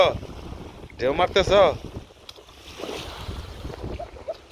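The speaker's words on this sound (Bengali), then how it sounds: "কি ঢেউ কি মারতেছ?" River waves slosh and splash against a boat on the Jamuna, a steady washing roar with wind buffeting the microphone and a brief voice cutting in near the start.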